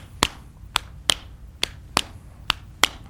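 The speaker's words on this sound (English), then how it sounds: "a triplet shuffle is when you play only the first and last notes of the triplet" Guitar struck in a triplet shuffle, playing only the first and last notes of each triplet: seven sharp, percussive strums in a loping, uneven rhythm, close and clear with no talking.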